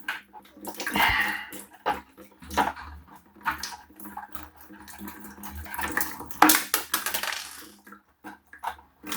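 Scale flakes tumbling out of an electric water boiler with dry heating elements during repair, with scattered gritty crunches, rattles and watery splashes in irregular bursts, fairly close, and a man exclaiming briefly between them.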